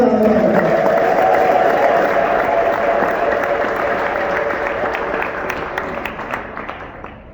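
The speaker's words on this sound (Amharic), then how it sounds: "እስቲ ለእግዚአብሔር ታላቅ እልልታና ጭብጨባ" A church congregation at a Sunday service breaks into loud applause mixed with ululation, a dense wall of clapping that gradually thins and fades.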